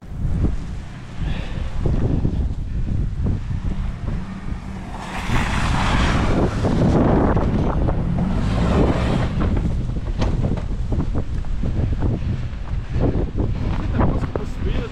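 Wind blowing outdoors on a snowy day, a steady loud rush buffeting the microphone throughout, with a voice talking over it.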